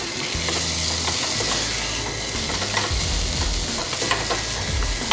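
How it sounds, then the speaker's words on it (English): Potatoes frying in bacon fat in a pan: a dense, continuous sizzle with scattered crackles and spatters, close and alone. "we want to give our potatoes a good fry off in that bacon fat"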